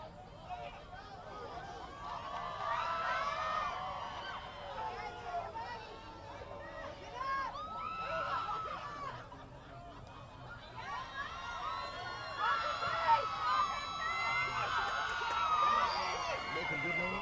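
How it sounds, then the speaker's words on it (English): Crowd in the bleachers at a women's soccer game against Albany State making lively noise, a steady babble of many voices with cheers and whoops rising and falling throughout. "Crowd making a little noise as Serge walks through with his cowboy hat and t-shirt."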